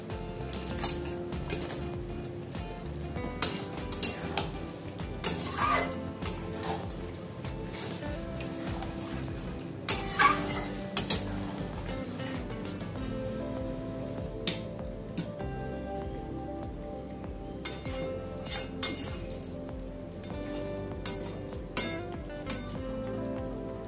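Fried chicken pieces tossed into a pan for chilli chicken, a steady crackling sizzle with occasional clinks of a utensil against the pan, no talking.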